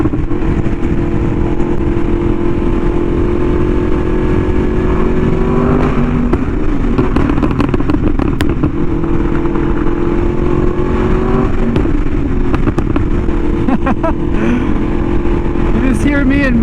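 A Yamaha R1M sport motorcycle fitted with an SC Project exhaust, heard while riding: a loud, continuous engine roar with rising and falling revs and wind rush, up close.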